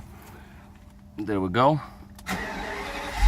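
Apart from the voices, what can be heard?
Mercedes 600SL engine starting and idling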